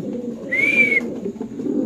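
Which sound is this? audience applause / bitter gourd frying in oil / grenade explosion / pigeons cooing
pigeons cooing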